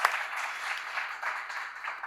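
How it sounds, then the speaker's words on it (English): Soft, fairly distant audience applause at a tech conference event, a steady patter of clapping that holds evenly for a couple of seconds. "Please give a round of applause to Andrea and Nacho for this amazing event"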